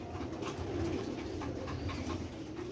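Low, throaty cooing from pure old-line Sialkoti bataire pigeons rolls on in repeated warbling phrases, near and steady, with no voices.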